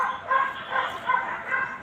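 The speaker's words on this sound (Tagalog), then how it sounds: "Dami ng aso." Several dogs bark and yip in short repeated bursts, fairly close but not loud, with a faint voice in the background.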